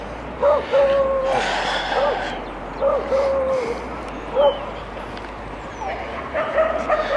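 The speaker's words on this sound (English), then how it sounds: "Bloody dog." A dog yips and barks repeatedly at a distance, five or so short calls spread across steady outdoor background noise.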